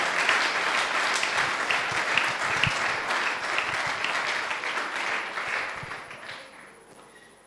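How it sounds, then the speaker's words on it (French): A church congregation at a Sunday worship service applauds loudly and steadily, a dense wash of clapping that holds for several seconds before tapering off toward the end. "applaudissez très fort pour le Seigneur Na Jésus"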